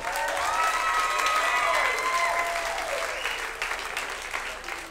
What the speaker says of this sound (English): clap if you are happy that gas prices are finally going down. Clap, let me hear you.